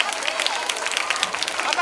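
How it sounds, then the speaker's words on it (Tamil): Audience at a school annual day clapping hands together, a dense, steady wash of applause from a crowd with faint babble mixed in, continuous and fairly loud throughout. "நல்லா ஜோரா தட்டுக்க பார்க்கலாம்."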